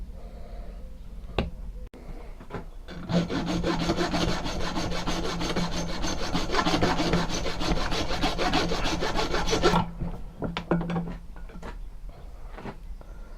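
A hacksaw cutting out a knife handle blank for a tanto knife, heard as a close, loud run of fast rasping strokes lasting several seconds, with a few scattered knocks and scrapes before and after.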